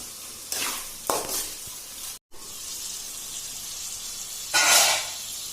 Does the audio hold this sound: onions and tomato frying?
yes